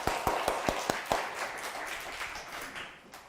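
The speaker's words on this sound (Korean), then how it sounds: "우리 하나님께 영광, 우리 박수 드리겠습니다" Church congregation clapping together in a burst of quick, sharp claps for the first second or so, then thinning into a softer, scattered patter that fades out.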